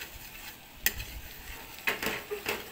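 Butter melts and sizzles softly in a pan for buttered shrimp, with a few sharp scrapes of a utensil stirring it.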